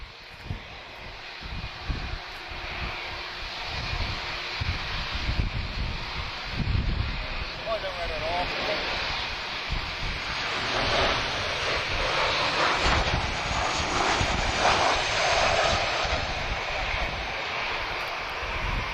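A fixed-wing airliner taking off at Lisbon Airport, its engine roar building steadily and sustained for the whole stretch, fairly close, with wind buffeting the microphone and occasional talk underneath.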